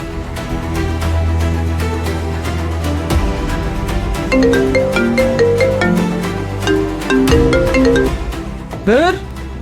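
A melodic phone ringtone plays loudly and steadily with bright repeating notes, ending in a quick rising sweep.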